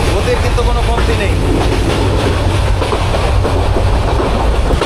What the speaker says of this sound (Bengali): দুর্দান্ত গতিতে কিন্তু আমাদের ট্রেন ছুটে চলছে